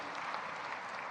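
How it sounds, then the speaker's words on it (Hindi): A brief burst of dense crowd applause at a Women's Day award event, steady and even, many hands clapping together. "जोरदार तालियां बजनी चाहिए।"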